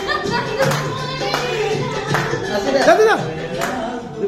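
Hands clap in scattered bursts at a birthday celebration, fairly close, mixed with cheerful talking and exclamations from the people gathered.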